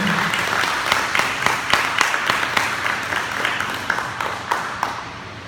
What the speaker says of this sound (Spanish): ¿Por qué no le das un fuerte aplauso al Señor y le alabas conmigo?